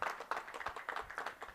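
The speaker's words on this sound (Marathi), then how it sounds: "जोरात टाळ्या वाजवायच्या आहेत." At a cricket match felicitation, an audience claps in a quick, fairly faint burst of overlapping handclaps that lasts only a moment.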